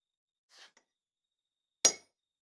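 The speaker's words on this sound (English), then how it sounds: "let me go get it and whack into this, and I'll show you how quickly it blunts" An old chisel struck into hot steel gives two isolated metallic hits, a soft tap followed a second later by one sharp, ringing clink, close by in near silence.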